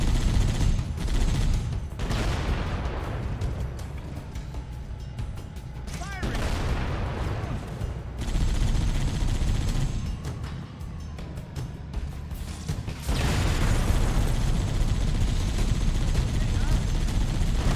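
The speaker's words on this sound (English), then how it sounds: "the spread on this machine gun is crazy" Machine gun fire in the co-op Halo: Combat Evolved campaign, with sustained, loud, rattling bursts and heavy booms layered over a dense battle din that stops briefly and then resumes.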